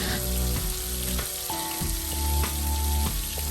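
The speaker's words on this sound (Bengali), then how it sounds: "এখানে মাছ ভাজা হচ্ছে" Steady, loud sizzling and crackling of fish frying in hot oil, continuous throughout with occasional sharper pops, no talking.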